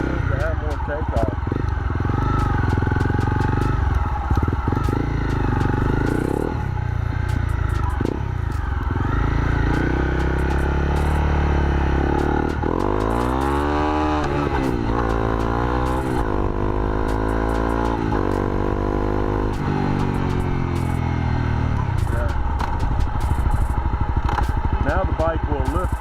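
A Honda CRF250L motorcycle fitted with a fuel programmer rides along, its engine revving and changing pitch through accelerations, loud and steady over wind and rattling.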